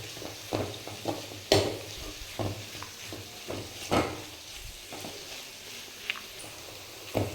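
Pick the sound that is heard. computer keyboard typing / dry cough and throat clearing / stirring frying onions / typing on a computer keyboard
stirring frying onions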